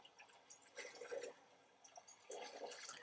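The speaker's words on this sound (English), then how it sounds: "we're gathering dirty water" Dirty water being gathered in the video game Once Human, with short splashing, trickling bursts that come and go in a few uneven pulses at moderate, fairly faint level, with no talk.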